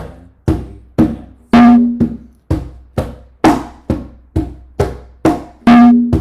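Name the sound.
Latin percussion, one open tone on offbeat, 2 side of clave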